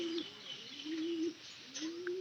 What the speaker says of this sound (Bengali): এই যে একটা পায়রা আসছে